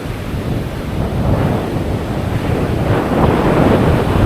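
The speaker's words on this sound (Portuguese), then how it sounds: "Está ventando um pouquinho mais forte." Wind and ocean waves at Jurerê beach in Florianópolis on a cloudy day, a loud, continuous roar of surf mixed with gusty wind buffeting the microphone, swelling toward the end, no speech.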